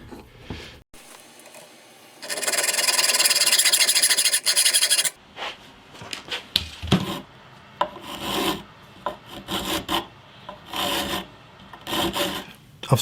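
A metal file squaring the sides of bolt heads for a guitar built from fence wood: a loud, sustained rasping run, then a series of shorter, uneven file strokes close by.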